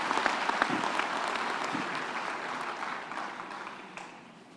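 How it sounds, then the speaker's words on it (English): Graduation ceremony audience at the University of the Free State claps for its graduates, a broad, distant-sounding ovation of many hands that slowly fades over a few seconds. "round of applause for our graduates"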